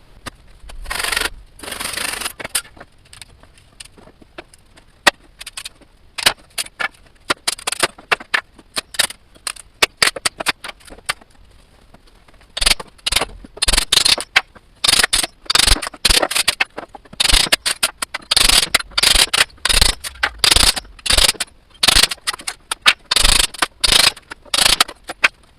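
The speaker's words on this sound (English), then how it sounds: "let's start by dismantling this pallet and see how much wood I can get out of it" A wooden pallet is pried apart, giving repeated bursts of creaking, scraping and cracking wood. The bursts come irregularly and sit close, with short pauses between tugs and no talk.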